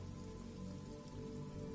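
Steady rain pours down in a video game scene, a constant even patter on hard surfaces that fills the space without letting up, with no voices over it.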